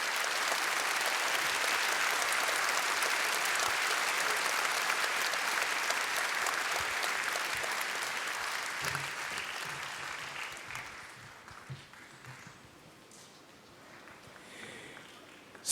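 Loud, sustained applause from a large audience at the opening ceremony of the ACM ICPC 2012 programming contest, steady for about ten seconds before thinning into scattered claps and a quieter hall.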